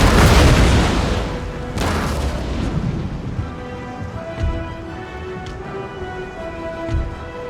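Ship cannons in the naval strategy game Empire: Total War boom in a heavy opening volley, then fire a few more scattered distant shots over a rumbling, rain-like wash of battle noise.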